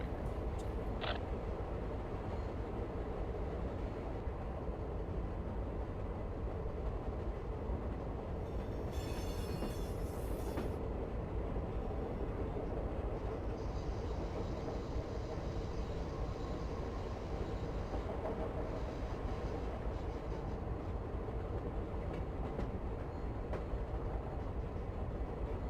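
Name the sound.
Amtrak Southwest Chief train running in Run 8 train simulator game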